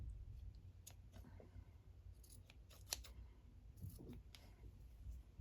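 Scissors snip and trim a small fabric tag, faint crisp clicks spaced irregularly over a low steady background hum, close by and with no speech.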